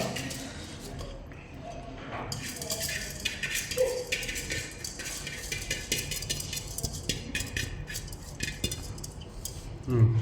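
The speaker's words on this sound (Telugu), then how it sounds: "బియ్యం మంచిగా వేసుకొని ఒకసారి కలుపుకోవాలా" Uncooked rice tipped into a metal pot and mixed around, giving a steady gritty rustle with scattered clinks of a utensil against the pot's side under continuous background noise.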